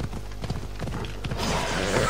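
Hooves of a ridden horse clip-clopping in Assassin's Creed Odyssey, a quick steady run of close, distinct hoofbeats that gives way to a louder rushing wash of movement near the end.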